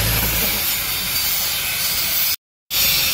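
Loud, steady hissing roar of a rail being cut into a 34-foot length, a dense broadband rush lasting throughout with one brief dropout near the end.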